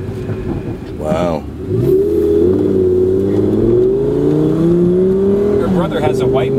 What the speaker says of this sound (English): This car has some noise to it.